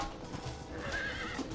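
A horse in the Western video game Red Dead Redemption gives a short, loud whinny that fills a brief moment on its own.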